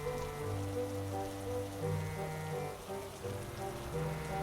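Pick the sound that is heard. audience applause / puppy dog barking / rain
rain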